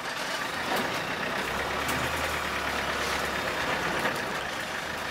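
A 1988 Land Rover 110 with a 300Tdi diesel engine rolling slowly while turning around in low range, a steady close diesel drone with coarse broadband rumble and a low hum that holds for a few seconds.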